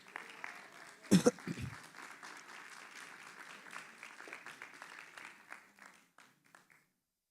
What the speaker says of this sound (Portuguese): Fica de pé louvando o Senhor com suas palmas